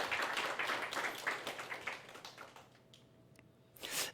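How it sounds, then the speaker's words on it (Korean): A church congregation claps in thanks, a dense burst of applause that fades after a few seconds, followed by a short renewed patter of claps. "우리에게 단비를 주신 하나님께 감사의 박수를 한번"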